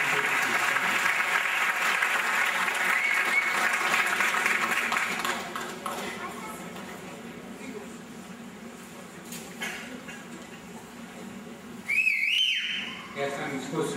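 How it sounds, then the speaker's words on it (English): Audience applause at a high school senior awards night, loud with whistling for several seconds before fading to scattered clapping and room murmur, then a brief sharp whistle near the end. "One last round of applause for the students."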